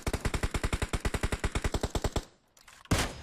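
Rapid automatic gunfire in the mobile battle-royale game PUBG Mobile: a long steady burst of about twenty-five evenly spaced loud shots, then a brief lull and a final louder blast.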